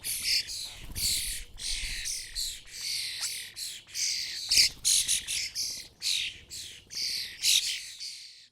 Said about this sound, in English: That's the youngsters calling for food and following their parents around, begging for insect food that the adults are pulling up from the lawn